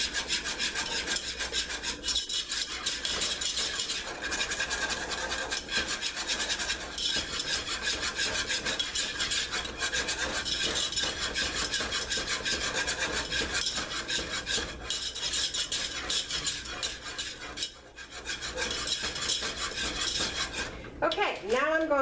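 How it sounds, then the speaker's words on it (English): A whisk scrapes rapidly and continuously around a bowl as a cornstarch mixture for strawberry pie is beaten. It makes a steady, close, raspy rubbing that runs the whole time, with a brief pause and a higher scrape near the end. "So I just keep whisking together till I get what I'm looking for."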